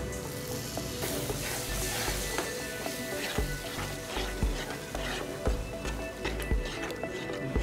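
Ground tomato goes into a pan of frying ginger and garlic for a dhaba-style egg curry, giving a steady close sizzle with repeated spoon scrapes and stirring knocks against the pan.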